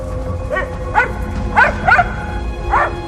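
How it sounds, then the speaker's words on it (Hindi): A small dog barks in a quick series of sharp, high yips, close and fairly loud, with brief pauses between bursts. "जहां से पॉमी के भौंकने की आवाज आ रही थी"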